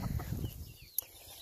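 A few farmyard chickens cluck softly at close range during morning animal chores, short low calls bunching together, then a quieter stretch with one sharp click.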